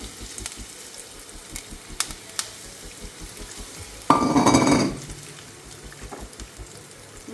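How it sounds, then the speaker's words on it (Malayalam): A burst of sizzling and crackling as curry leaves hit hot oil after mustard seeds have popped, lasting under a second, standing out from a quiet kitchen background with a few faint clicks. "കടുക് പൊട്ടി ഇനി നമ്മൾ കറിവേപ്പില ഇടുകയാണ്"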